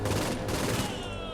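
Dense, continuous gunfire in Saints Row: Gat out of Hell, a steady barrage of overlapping shots that stays loud for the whole moment.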